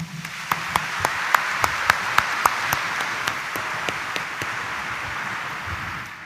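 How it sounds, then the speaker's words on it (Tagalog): A church congregation applauding during a homily: a dense patter of many hands with sharper individual claps standing out in a loose rhythm, steady and fairly loud, then thinning slightly toward the end. "narinig niyo po ang palakpak ng inyong mga alagad"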